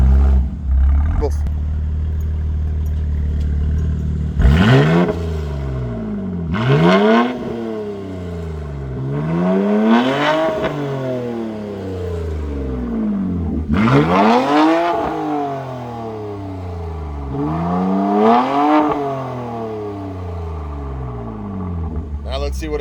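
A 2025 BMW M4 Competition fitted with a Valvetronic exhaust revs hard while parked, giving about five loud, close blips that each climb sharply and fall back to idle.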